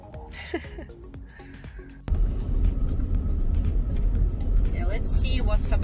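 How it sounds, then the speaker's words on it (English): A car's engine rumbles steadily from inside the cabin while driving with a parrot riding in a car seat; the hum swells after a sudden jump in loudness, with occasional chirps and a voice heard early on. "I put the camera on the corner of my car and you will be able to see what Sabrina do when I'm driving."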